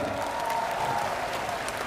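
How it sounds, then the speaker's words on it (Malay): Thunderous applause from a concert audience at a rock show in Penang, a steady dense roar of clapping that holds loud and even throughout with a sustained tonal hum beneath. "ekstra tepukan gemuruh untuk mereka"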